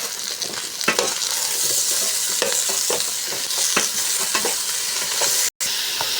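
Squash and mixed vegetables sautéing in a pan before coconut milk goes in, a steady close hiss and sizzle with scattered crackles and light stirring taps, cut by a brief dropout near the end.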